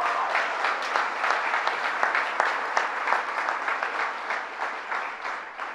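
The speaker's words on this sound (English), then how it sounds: "Give him a round of applause." An audience claps for a senator at a public announcement, a sustained wash of many hands with individual claps popping through at fairly close range. The applause stays level throughout without speech.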